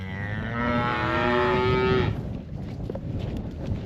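A heifer moos on a farm, one long drawn-out call with a rising then steady harmonic tone lasting about two seconds, fairly close, followed by quieter farmyard background.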